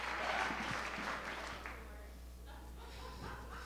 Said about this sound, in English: a warm Los Angeles round of applause